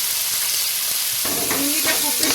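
Dried shrimp and green chilies frying in a pan while being stirred, a loud close sizzle with scraping stirs that pick up in the second half.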